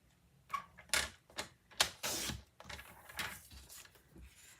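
A paper trimmer slices a cardstock panel, heard as a string of sharp, quiet clicks and short scraping strokes, close and irregular with pauses in between.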